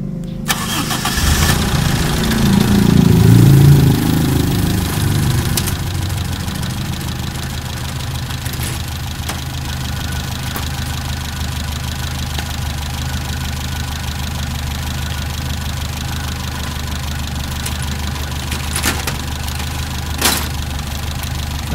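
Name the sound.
car engine starting and idling at normal operating temperature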